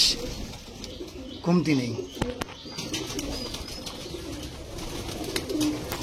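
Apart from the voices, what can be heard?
Lamba pigeon pair cooing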